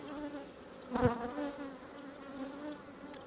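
Honey bees buzz steadily inside an aggressive, queenless hive with honeycomb, a dense droning hum with one brief louder swell near the start.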